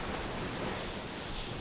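Gentle waves wash in and out on a warm, calm ocean shore. The surf makes a soft, steady broadband hiss throughout, faint and distant, with no voices.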